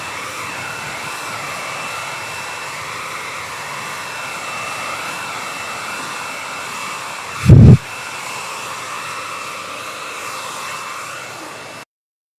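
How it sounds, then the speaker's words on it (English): A hair dryer running to dry paint, a steady loud airy roar with a brief low thump near the middle, then cutting off abruptly at the end. "You can take that hairdryer sound."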